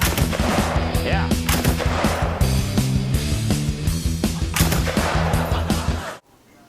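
Two or three thousand firecrackers explode in a long, loud rapid-fire barrage of sharp cracks and pops for about six seconds, then stop abruptly into silence.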